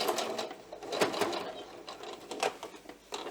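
A sewing machine stitches along a seam while pixie wings are sewn onto a top, a close, rapid mechanical whir in uneven bursts with brief pauses as the fabric is guided around a curve.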